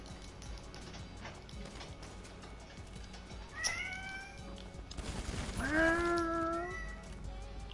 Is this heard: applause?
no